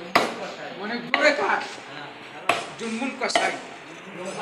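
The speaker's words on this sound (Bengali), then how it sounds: "একটা জুম্মুন কষাইয়ের মতো আপনি মাংসটা কেটে দেখেন" Goat meat chopped by a butcher at a goat shop, four heavy cleaver chops at irregular intervals, each followed by ringing clatter and brief shuffling, close and loud.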